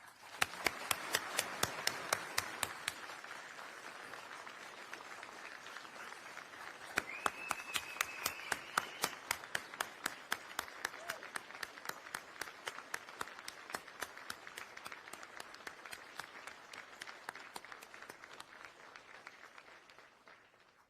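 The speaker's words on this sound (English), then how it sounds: "Ladies and gentlemen, please join us in a round of applause for our competitors." An audience at an army medic competition awards ceremony applauds the competitors with sustained, even clapping from many hands. It fades slightly toward the end and no voices come through.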